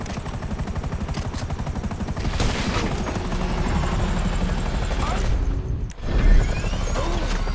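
A police helicopter in the video game GTA 5 drones with fast, loud rotor chop, joined by bursts of gunfire and a crash near the end, with voices talking over it.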